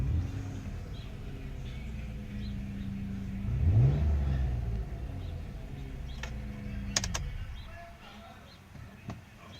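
A 1998 Ford SVT Contour on a test drive, its engine quietly humming then swelling into a brief acceleration midway before settling back to a low, distant drone, with faint birdsong and a few clicks.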